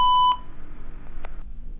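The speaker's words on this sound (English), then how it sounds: "Please leave a message after the beep." A single voicemail beep, a steady electronic tone lasting about a third of a second at the start, followed by quiet line noise and a faint click.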